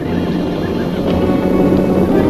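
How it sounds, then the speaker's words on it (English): Horses whinny in an old Western film scene, the neighs blended into a dense, loud bed of noise with a faint clatter of movement. "There's the horses."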